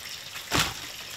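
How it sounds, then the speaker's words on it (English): Water gushes from a cut main plumbing line inside a vintage camper being gutted, a brief surge of hissing spray rising out of a steady rushing wash, with no talk. "So it is gushing out water now, right here"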